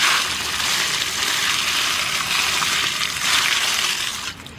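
Water tipped from a bucket over jamun fruit being washed in a vessel, a steady close splashing gush that runs for several seconds and cuts off at the end.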